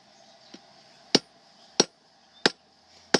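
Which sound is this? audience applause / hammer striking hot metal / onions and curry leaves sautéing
hammer striking hot metal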